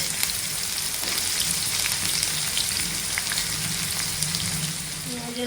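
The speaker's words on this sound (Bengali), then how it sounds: "তেল দিয়ে দিয়েছি সর্ষে এবার দিয়ে দিচ্ছি পেঁয়াজ" A steady loud sizzle as onion goes into hot oil with mustard seeds in a pan, dense crackling frying that continues throughout, fading slightly at the end.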